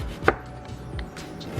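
A knife chops an onion on a cutting board while turnip and mustard greens are being made, with a sharp close knock followed by several softer, quieter cuts in an uneven rhythm.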